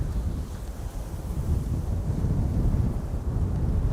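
Strong gusty wind of about 20 knots buffets the microphone at an airport during a crosswind arrival, a steady low roaring rumble that swells slightly, continuous and close with no other clear sounds.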